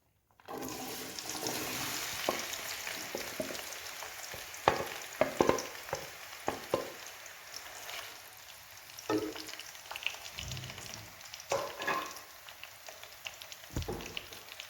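Half a kilo of chopped onions hit half a cup of hot oil in a village kitchen pot, a loud sustained sizzle and bubbling hiss with occasional clinks and stirring knocks of a spoon against the pot.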